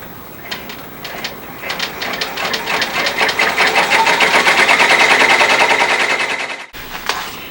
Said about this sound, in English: I have already loaded the design onto my machine and I am ready to start stitching.